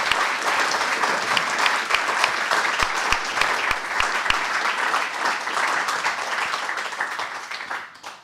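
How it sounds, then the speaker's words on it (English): A crowd applauds steadily, a dense wash of clapping that holds strong for several seconds before tapering off at the end. "give Miley and the panel another round of applause here for all of them"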